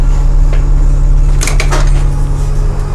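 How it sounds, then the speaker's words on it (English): Doors of a 2006 Gillig transit wheelchair bus opening with a brief clatter and hiss over a steady low engine idle, heard close in a noisy setting with no talk. "We'll open both doors there"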